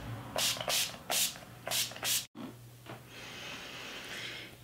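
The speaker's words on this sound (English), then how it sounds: "I'm just misting my face with my Urban Decay All Nighter Makeup Setting Spray." Several short, breathy hisses of an Urban Decay All Nighter setting spray pump misting a face in quick succession, close and quiet, followed by soft rustling.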